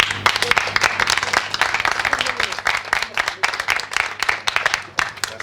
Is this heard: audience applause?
yes